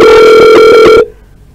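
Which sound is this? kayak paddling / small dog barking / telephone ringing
telephone ringing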